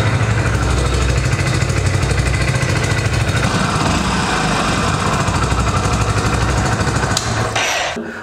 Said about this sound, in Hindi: ऐसे इंजन को स्टार्ट छोड़ देना है